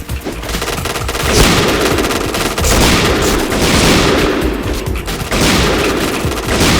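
Automatic gunfire in the online shooter game Point Blank: dense, loud rapid-fire bursts run almost without a break, with a few heavier shots, and no speech over them.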